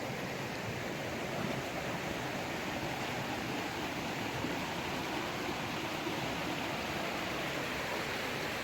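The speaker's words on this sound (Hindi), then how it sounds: "हम लोग इस वक्त जारोगो आए हुए हैं, जारोगो वाटरफॉल देखने।" Jarogo waterfall in Swat pours in a constant broadband rush of falling water, loud, steady and unbroken, heard alone without speech.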